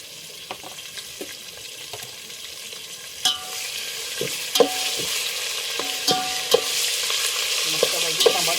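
Tomatoes and green chillies fry in oil under a soft, continuous sizzle while a spoon scrapes and taps against the pan in irregular strokes, growing a little louder toward the end.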